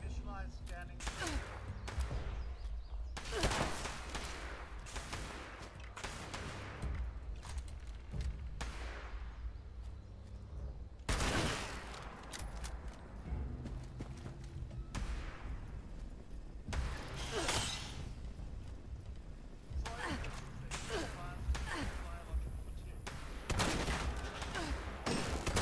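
Dense, continuous gunfire from a sniper build in Fallout 76, sharp repeated shots layered over busy game effects and background speech throughout.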